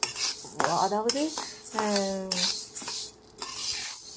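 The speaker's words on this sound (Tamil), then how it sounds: "இதை நல்லா வானலியில் போட்டு வறுத்துக்கலாம்." Urad dal being dry-roasted in a kadai for laddu, with the spatula scraping and clinking against the metal pan in quick strokes at close range, and no voice over the scraping.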